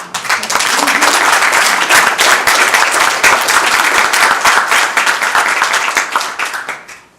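Loud, close applause fills a science and technology policy forum as the audience gives a committee chairman a big round of clapping, dense and sustained before tapering off at the end.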